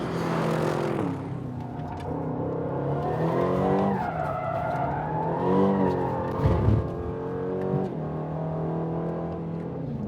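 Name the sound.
new Aston Martin Vantage engine driven in track mode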